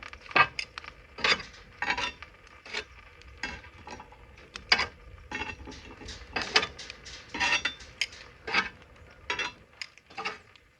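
Heavy cast iron Dutch oven clanking and scraping as its lid is set on, with repeated metallic clinks and rattles spread across several seconds, close and fairly loud, no voices.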